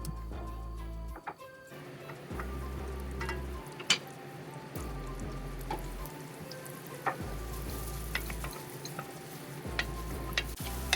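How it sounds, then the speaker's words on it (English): Garlic, onion and jalapeno sauté in a Dutch oven with a steady soft sizzle, broken by occasional utensil clicks and scrapes, over a pulsing low background hum. "we're going to add in the garlic for about 30 seconds because garlic cooks really quick"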